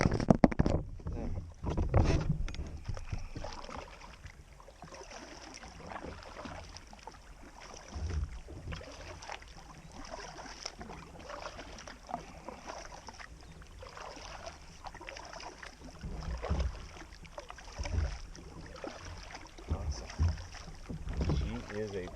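A kayak paddle dips and pulls through the water of a calm lake, with soft, irregular splashes and drips. Light wind buffets the microphone now and then, and no one speaks.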